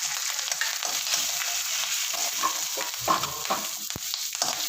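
Green chilies, curry leaves and urad dal sauté in hot oil, an even close sizzle with scattered pops and a few stirring scrapes.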